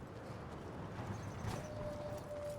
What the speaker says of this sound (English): I heard the horse somewhere over here.